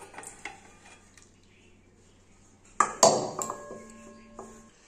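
A metal pot of palak paneer is lifted off a gas stove with a sudden clank and ringing ping, followed by a few lighter utensil knocks, close against quiet kitchen background.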